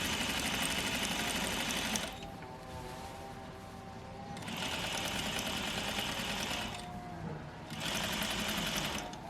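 A sewing machine runs in bursts, rapid mechanical stitching seams that stops and restarts three times, with a low background rumble of lawn mowing outside between runs.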